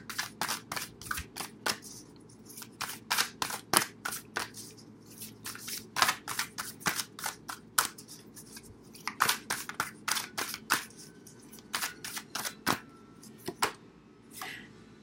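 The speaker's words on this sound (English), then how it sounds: "let's pull some cards from The Universe Has Your Back deck" Oracle cards from The Universe Has Your Back deck being shuffled by hand, a long run of quick, crisp riffling snaps and soft slides close by, rhythmic bursts with brief pauses and no talking.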